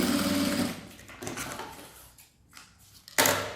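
A sewing machine stitches a bag lining for a unisex zippered toiletry pouch in quick buzzing runs, stopping and starting several times with a final loud burst, with no talking.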